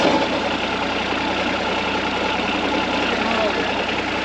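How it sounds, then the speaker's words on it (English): A Cat 302.5 mini excavator's diesel engine runs at a steady, loud idle with a continuous rumbling drone, close by, with a voice faintly underneath. "We are ready to start it up."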